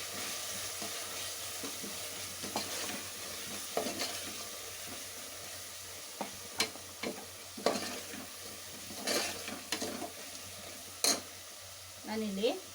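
Chili powder and coriander powder fry in a pan, giving a soft steady sizzle with intermittent scraping and stirring strokes, fairly quiet and close, with a brief voice near the end.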